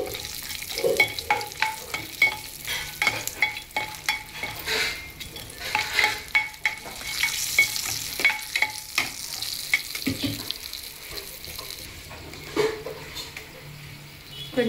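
Onions and cashews frying in a pan with ginger-garlic paste, a continuous close sizzle broken by frequent spoon scrapes and clinks against the metal.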